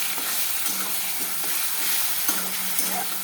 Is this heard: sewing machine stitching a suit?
no